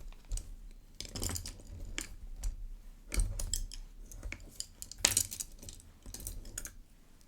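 Plastic packaging around ink sample pipettes rustles and crinkles with a soft, crepe-paper-like texture, close up, in irregular bursts and sharper crackles throughout, with no talking.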